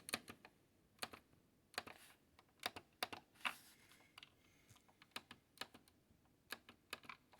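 Clicky keys on a Unicomp Endura Pro keyboard typed in quick, irregular bursts of sharp, close clacks, alone with no voices.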